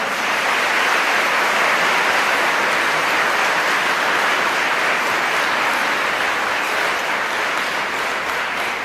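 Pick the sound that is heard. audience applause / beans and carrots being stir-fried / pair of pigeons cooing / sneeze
audience applause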